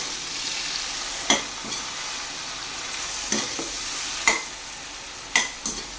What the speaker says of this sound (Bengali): এবার ভালো করে সবটা মিক্স করে নেব।